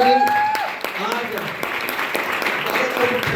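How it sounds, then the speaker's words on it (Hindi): Applause from a seminar audience in a hotel hall, a steady wash of clapping with faint voices and tonal sound mixed in underneath. "जोरदार तालियां सर के साथ आज"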